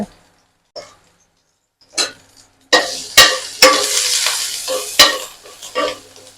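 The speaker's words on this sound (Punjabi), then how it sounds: "ਉਸੇ ਤੇਲ ਦੇ ਵਿੱਚ ਆਪਾਂ ਇਹ ਲਸਣ ਪਾ ਲੈਨੇ ਆ ਤੇ ਅਦਰਕ ਪਾ ਲੈਨੇ ਆ" Chopped garlic, ginger and finely cut green chilli dropped into hot oil and stirred, sharp sizzles and clattering spoon-on-pan strokes after a few quiet taps, growing busier and louder.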